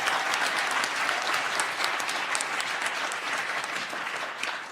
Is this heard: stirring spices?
no